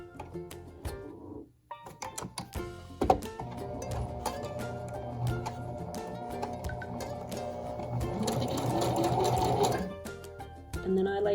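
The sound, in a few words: sewing machine stitching a button on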